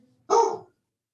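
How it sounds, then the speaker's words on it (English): A single sharp dog bark sounds once, fairly close and clear, surrounded by near silence in a quiet room during a remote public meeting. "We have a dog barking in the background."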